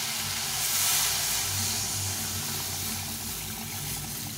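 Water poured into a hot pan of simmering fish curry with oil and mustard paste, giving a soft continuous sizzle and hiss, fairly faint and close, with no talking.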